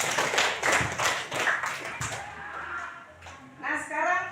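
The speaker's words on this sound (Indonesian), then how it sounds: "Iya, kita kasih aplaus." A classroom of students applauds with a burst of brisk hand claps that fades into scattered taps, and voices murmur throughout.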